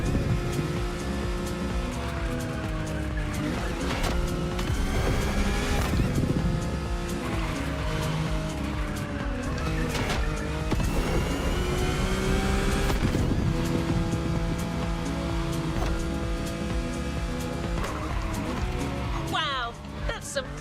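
A car is driven hard in The Crew Motorfest, with a loud, continuous engine roar, shifting revs and tire squeals under a steady wash of road and surf-like noise, while a person talks over the gameplay.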